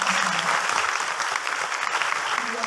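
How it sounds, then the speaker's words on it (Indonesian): Audience at an Islamic boarding school talk show event applauds steadily, a dense wash of clapping sustained throughout at fairly close range. "Ya, tepuk tangan untuk Prof."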